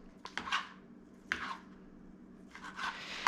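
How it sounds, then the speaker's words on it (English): A log of pizza cheese being sliced lengthwise with a knife: a few crisp, close cutting strokes in uneven bursts, with quiet pauses between them. "I'll cut it long ways. So I'm just basically just slicing it just like this."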